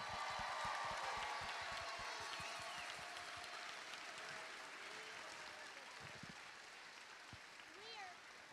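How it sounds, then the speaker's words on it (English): Audience applause at a school Grandparents' and Special Friends Day performance, a broad steady wash of clapping from a large crowd that slowly eases, with voices and a few shouts mixed in. "How about one more round of applause?"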